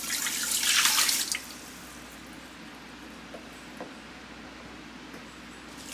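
Water pours into the inner pot of a Ninja Foodi pressure cooker in a loud splashing rush lasting just over a second, then stops, followed by faint small drips and handling sounds.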